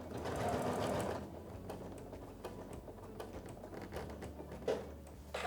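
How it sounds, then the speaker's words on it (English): Sewing machine stitching flanged binding onto a quilt, a quiet rapid mechanical patter that runs steadily, louder at first, then continues more softly with small clicks. "I'm gonna be sewing from off the fabric onto the quilt"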